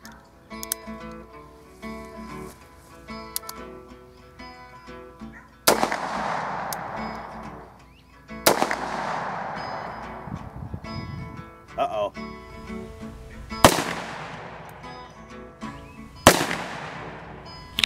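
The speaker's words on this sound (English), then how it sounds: "then we can get to shooting the clays" Bond Arms short-barrel pistol firing shot at clay targets from 10 yards outdoors: four sharp loud reports spaced a few seconds apart, each with a ringing decay, over a steady background hum and minor handling clicks.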